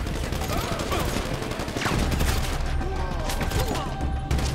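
Rapid, dense gunfire rattles in a GTA 5 zombie mod video game, bursts overlapping in a loud, chaotic fusillade that fills the whole stretch.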